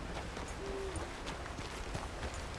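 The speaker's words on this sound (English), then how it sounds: "I heard the owl say who" A single owl hoot in Red Dead Redemption 2, one short low call early on, sounding moderately distant over a steady outdoor ambience with a few soft thuds.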